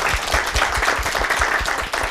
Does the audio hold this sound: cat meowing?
no